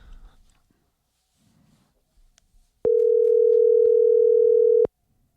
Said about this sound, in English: let me just call him and see if he'll answer